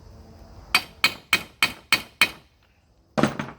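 Six sharp, evenly spaced hammer strikes on a stuck engine stud with a dead blow hammer, ringing metallic hits close up, followed after a pause by two quicker knocks.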